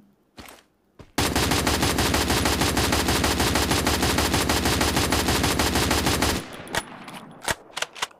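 Rapid automatic gunfire from the Free Fire Max video game, a continuous loud burst of about five seconds after a few short shots, followed by scattered clicks and single shots as the weapon is reloaded.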